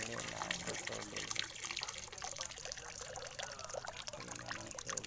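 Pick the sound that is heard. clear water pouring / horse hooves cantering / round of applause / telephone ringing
clear water pouring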